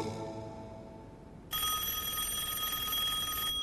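A telephone bell starts ringing abruptly partway through, a loud bright electronic trill that continues steadily after quieter room tone and a fading musical note.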